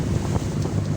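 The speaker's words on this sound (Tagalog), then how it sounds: "sinalubong na naman tayo ng bagyong Inding po" Typhoon wind buffets a fishing boat heading out to sea, with a brief burst of loud gusting and wave wash against the microphone.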